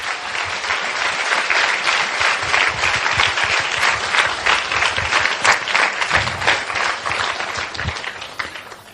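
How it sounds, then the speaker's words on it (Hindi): A large audience at a Hindi church sermon claps in sustained, dense applause, loud and continuous throughout before easing off at the very end. "कम ऑन, इस वर्ड के लिए ताली बजाएंगे"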